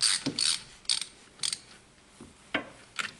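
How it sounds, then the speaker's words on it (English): Ratchet wrench snugging bolts into a soft aluminium throttle body, a series of sharp metallic pawl clicks in short bursts with pauses between, close and fairly quiet with no talk. "Bolts just need to be nipped in a little bit more, not particularly tight because you're going into soft aluminium."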